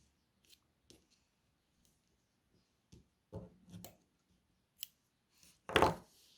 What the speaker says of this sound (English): Now with your yarn, cut a length that is about twice the length of the tail that you just cut.